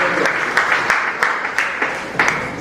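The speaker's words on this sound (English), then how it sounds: "I think we should give them a applause for that" Applause at a robot camp event honoring the young organizers, a short burst of clapping from an audience with sharp individual claps standing out.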